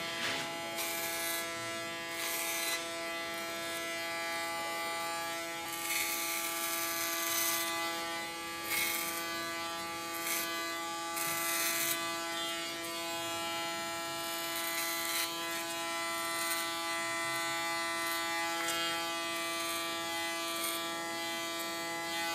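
Electric hair clippers fitted with a 2 millimeter clipper comb cut short hair in a salon, a steady close buzz with a strong humming tone and bursts of brighter rasping as the blades pass through the hair.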